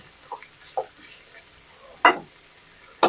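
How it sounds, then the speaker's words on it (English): Food sautéing in butter in a pan: a faint, soft sizzle under a handful of sharp utensil clicks against the pan, spaced irregularly, up close and without talking. "I saute it just a little bit."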